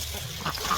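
A duck gives a brief quack or two outdoors in a village setting, faint and short against quiet background noise.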